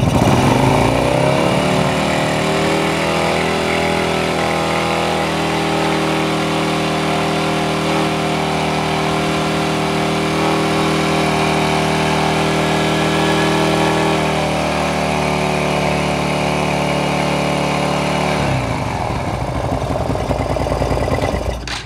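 Motorcycle engine fitted with a new piston runs steadily at idle and mid revs for about twenty seconds, a loud continuous mechanical drone up close, dropping off near the end.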